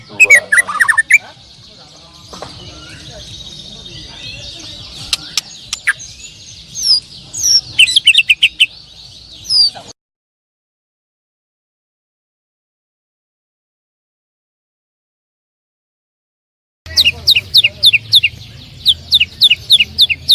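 A white-rumped shama sings in rapid bright whistles, trills and chirps, loud and close, in two stretches separated by a long silence, with the later passage made up of quick repeated notes.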